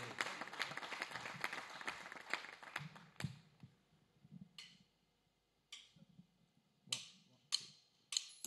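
An audience claps at an evening show, dense at first and then thinning into scattered individual claps and taps that come further apart toward the end.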